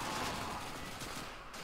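Sustained gunfire from the video game Call of Duty 2, a dense, loud burst of rapid shots filling the short stretch with little pause.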